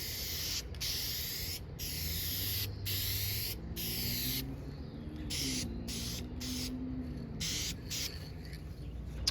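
Spray paint is applied to the side mirrors of a Ford F150 EcoBoost in a rapid series of close, loud hissing bursts separated by short pauses.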